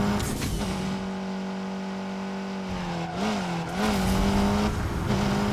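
A car in the NFS mobile racing game drifts through a U-turn, its engine holding a steady whine that wavers and climbs as it revs, with tire noise mixed in, loud and close without speech.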